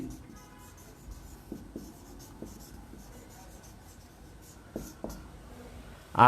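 Handwriting with a pen on paper while making accounting entries, soft scratchy strokes in short bursts separated by brief pauses, close and quiet.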